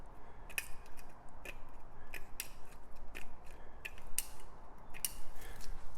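A sharp knife slices through a paper stencil for spray paint art, giving faint, close, irregular crisp cutting ticks and scratches over quiet room hiss.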